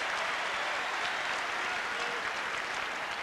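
A tennis crowd at a Sampras match applauds steadily, a dense, fairly distant patter of clapping that holds evenly throughout, with faint talk beneath it.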